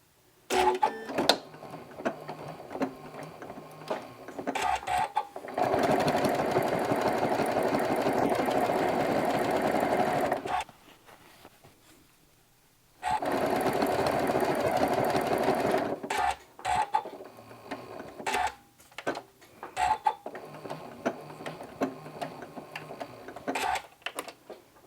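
A sewing machine stitches fabric for a stuffed fall pumpkin in two long continuous runs separated by a short pause, with clicks, fabric rustling and handling noises before, between and after.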